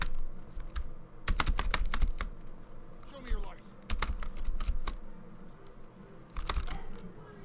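Computer keyboard keys tapped in quick clusters with pauses between them, the W key and space bar pressed to control a parkour mod in GTA Vice City. The clicks sound close, over a low background hum.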